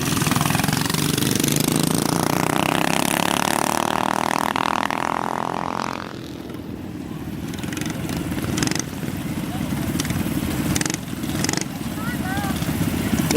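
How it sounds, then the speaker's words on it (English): A minibike with a Subaru Robin motor and CVT drag races, its engine note rising loudly in a steady pitch climb before easing off, with other engines and a voice in the background. "It's a Subaru Robin motor with a cheap CVT on it. But that thing's fast."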